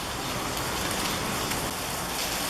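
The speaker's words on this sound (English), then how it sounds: "Hard out rain." Heavy rainfall in Peru during rainy season, with a dense, steady hiss of drops pouring down, loud and unbroken, no one talking.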